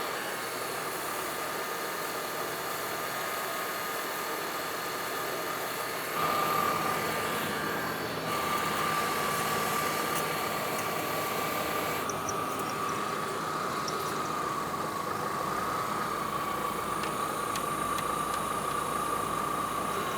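A 2002-2009 Chevrolet Trailblazer with the 4.2L engine idling steadily at normal operating temperature on level ground, a continuous even hum with a faint whine, heard up close with no talk.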